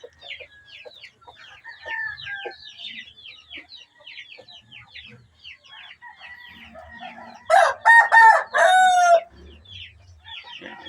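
Black Parawakan breeder chickens cluck steadily in a farm pen, then a rooster bursts into a loud, close crow with a few rising calls lasting a couple of seconds.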